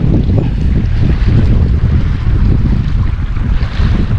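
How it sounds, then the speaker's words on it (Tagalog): Ocean waves wash and churn close by, mixed with heavy wind buffeting, a constant loud rumble with no pauses. "Alon."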